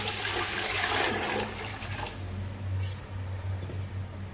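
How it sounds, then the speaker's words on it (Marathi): Water pours steadily into a heavy-bottomed pot, a rushing splash that settles into a lower, fuller gurgle as it fills; close and continuous, no talking. "आपण पाणी घालूया टोपामध्ये"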